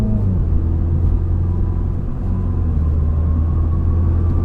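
2020 MINI John Cooper Works Hardtop with eight-speed automatic accelerating onto a highway, a steady low engine drone and road rumble heard from inside the cabin, smooth with no abrupt breaks.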